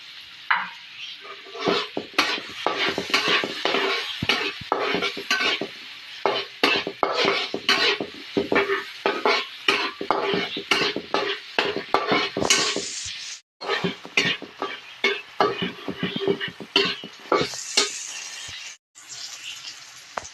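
Butter and jackfruit are added to a pan and stirred for banana turon: a long run of busy, close utensil scrapes and clatters against the pan over a light sizzle, with a couple of brief pauses.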